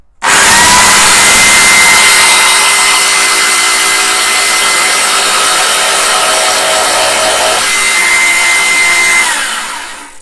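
A drill grinds steadily through the metal rivets of a Corgi Studebaker Golden Hawk diecast model car for about ten seconds, loud and close, with a high whine that shifts slightly in pitch near the end.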